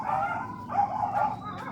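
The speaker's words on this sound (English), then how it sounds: "These dogs are absolute nutters." On a canal walk, a dog gives a few short, yappy barks and whines in close succession, loud and near.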